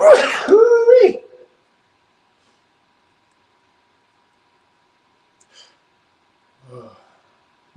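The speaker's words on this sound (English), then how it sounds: "I gotta sneeze, guys." A single sharp human sneeze bursts out close and loud at the start, followed by near silence with only faint traces of a voice later.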